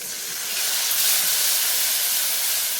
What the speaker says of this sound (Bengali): দেখো মশলাটা দিয়ে এখানে কষিয়ে নিচ্ছি আমি